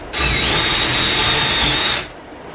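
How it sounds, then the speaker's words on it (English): A power drill whirs steadily for about two seconds drilling a hole in wood, loud and close, then spins down and stops. "I'm just using a regular drill to drill a hole here"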